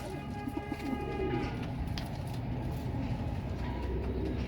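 Pigeons coo softly and repeatedly in a loft, the low calls faint beneath a steady wash of background noise.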